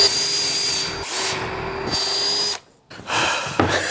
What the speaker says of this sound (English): I need to drill a couple of holes in this so I can put the screws through